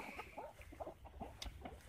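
Gamefowl chickens being tossed watermelon outdoors cluck in a busy, overlapping chatter of short calls, close and steady, with a brief sharp squawk partway through.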